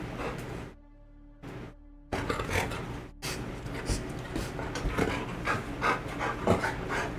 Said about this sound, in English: My dog Tier is freaking